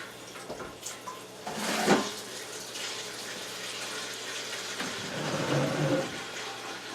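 Water running from a tap for homestead chores, a steady hiss and splash with louder gushes partway through and a faint hum underneath, no talking.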